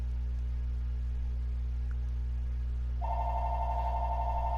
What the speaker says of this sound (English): Really? A phone call right now?